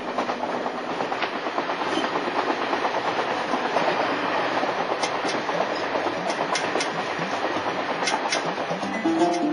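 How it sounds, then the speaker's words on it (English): A train rolls steadily along the rails with a continuous rumbling clatter, loud and close, as if heard from inside a carriage, with no talking. "I'm on a train heading south to the land of Nubia."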